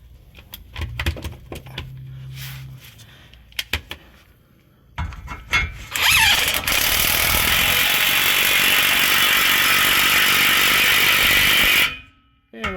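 Clinks of an 18mm socket going onto an impact wrench, then a loud sustained whirring burst of about six seconds as the wrench removes a bolt, stopping abruptly.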